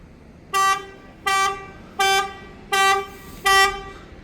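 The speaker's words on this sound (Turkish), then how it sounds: "aracımız kornayla ve dörtlüyle bizi uyarıyor ve kendini korumaya alıyor" A 2018 Ford Courier's alarm sounds its horn five times in an even rhythm, short loud blasts spaced under a second apart, close and clear.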